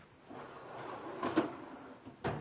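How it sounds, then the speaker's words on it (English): A tool chest drawer from a professional 301-piece mechanic's tool kit slides on its drawer slides, giving a soft rolling rumble with two brief clunks as it moves, close and quiet with no talk. "Now I know these drawer slides aren't, full extension ball bearing, but man, they still work."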